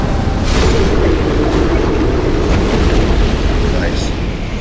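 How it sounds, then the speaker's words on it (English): In a video game, the Blue Smelter Demon sets off an area-of-effect explosion, a loud, sustained, roaring blast of rumble and crackle that fills the whole moment while a player talks over it. "Oh, he's going to do an AoE explosion."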